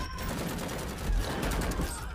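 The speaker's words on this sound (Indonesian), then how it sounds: "mendengar suara tembakan" Gunfire in an Indonesian action film, Iko Uwais's Headshot, as gunmen massacre bus passengers: a dense, sustained burst of rapid shots fills the whole stretch, loud and continuous with heavier thumps toward the middle.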